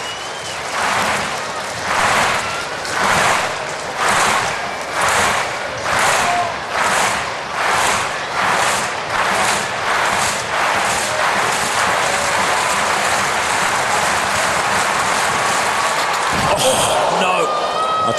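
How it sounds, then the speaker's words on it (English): A large athletics crowd at Bislett stadium in Oslo claps in loud rhythmic unison, pulsing steadily before swelling into continuous applause and cheering, with a commentator talking over it. "it won't be for want of support from this wonderful Bislett crowd"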